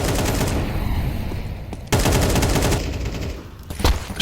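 Dense gunfire from the video game Counter-Strike 2 during a competitive match, with loud overlapping automatic bursts and sharp shots running almost continuously, one brief break near the middle, then more firing and a final cluster of cracks.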